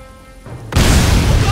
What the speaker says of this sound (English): Incoming! Bomb!